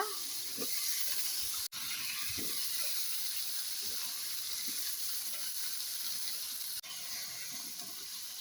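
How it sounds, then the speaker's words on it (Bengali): Steady sizzle and hiss of vegetables frying in a cooked-down spice paste in a pan, continuous and close, with brief dips in the sizzling. "মশলাটা আমার কষানো হয়ে গেছে, এখন দিয়ে দিব সবজি।"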